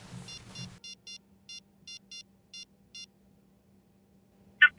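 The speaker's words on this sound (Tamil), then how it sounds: "சச்சின், இந்த நம்பருக்கு கால் பண்ணு." Telephone call tones on a handset when calling a number: a short series of eight even, evenly spaced electronic beeps, clear and close, followed by a brief higher chirp at the end.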